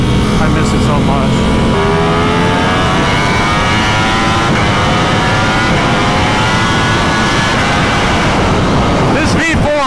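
A Ducati V4 motorcycle screams around a race track, its loud engine note rising and falling through repeated gear changes and high-rev pulls, with a burst of sharp revving near the end.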